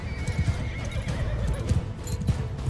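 Rhythmic hoofbeats of a horse moving steadily in the video game Mount & Blade II: Bannerlord, close and prominent, with a brief whinny and a low ambient rumble behind.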